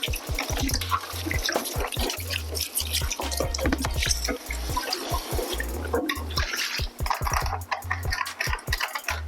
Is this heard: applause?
no